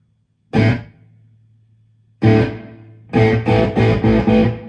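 Distorted electric guitar through a Carl Martin Headroom Mini reverb pedal: a single struck chord rings into a soft tail, then a second chord and a quick run of rhythmic strums, all loud and up close.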